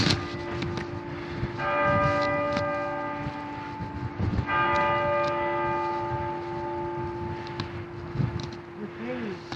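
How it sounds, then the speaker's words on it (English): Leicester Cathedral's church bells ring out the four o'clock peal in two clear rounds of bright, overlapping strokes, heard fairly near against a windy street background. "The 4 o'clock bells, I think."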